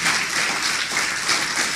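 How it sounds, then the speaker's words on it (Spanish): Church congregation applause in praise of God, a brief burst of thick, steady clapping from many hands at close, loud level. "démosle un aplauso a este Dios maravilloso, precioso, gloria a su nombre"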